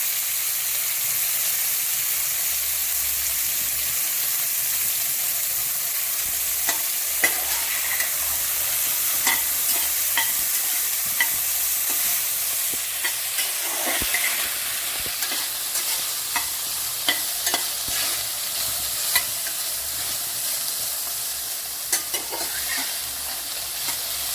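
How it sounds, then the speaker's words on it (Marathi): Carrots, green beans and masala are stirred and fried in ghee over low heat, producing a steady, soft sizzle with scattered light scraping clicks of the spoon, close by and without talk. "त्यात ते 5 मिनिटं आपण हे भाजी परतलेली आहे तुपावर चांगली"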